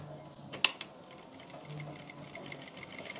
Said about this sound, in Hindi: अब हम यहाँ से सिलाई लगाना स्टार्ट करेंगे और यहाँ तक सिलाई लगा लेंगे